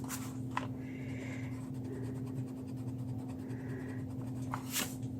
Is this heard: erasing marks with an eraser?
yes